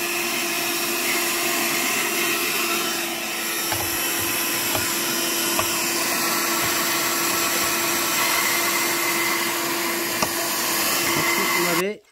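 A TVS car vacuum cleaner runs steadily for the whole stretch, a loud continuous motor whine and suction hiss with small clicks and knocks as it picks up dust, cutting off abruptly at the end.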